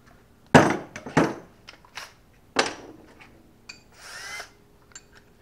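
A power drill bores a larger hole through fiberglass boat gel coat while fitting a bow eye, with several short sharp bursts of whining bit contact separated by pauses, close and fairly loud.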